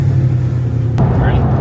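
A car engine runs with a deep, steady rumble close by, while people talk over it.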